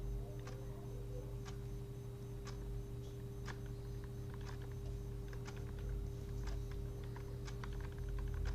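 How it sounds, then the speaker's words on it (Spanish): Arrow keys on a computer keyboard are tapped one at a time at an uneven pace, light clicks close by over a steady hum. "Ahí con las flechitas del teclado puedo ir aumentando de a uno"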